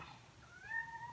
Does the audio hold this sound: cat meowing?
yes